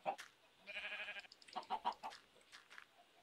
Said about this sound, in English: Hey, I got a baby chicken.